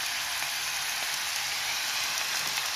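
Mixed vegetables sauté in a hot pan, a steady close sizzle and crackle holding even throughout with no talk.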